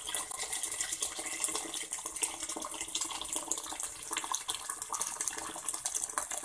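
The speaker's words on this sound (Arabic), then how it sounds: "هنزل عليها بمية مغلية." Boiling water poured into a pan of simmered tomato sauce, a steady close hiss and splash of liquid that runs unbroken for several seconds with no talk.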